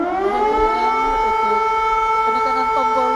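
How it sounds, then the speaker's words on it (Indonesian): A siren sounds at the closing ceremony of a national Quran recitation competition in North Maluku: a single loud, sustained wail that climbs and wavers in pitch. "Penekanan tombol sirine sebagai ditutupnya pelaksanaan STQ Nasional ke-26."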